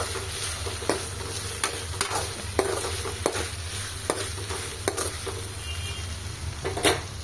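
Tamarind cooking in a pan with softened peanut chutney ingredients, giving a steady close sizzle with repeated stirring scrapes.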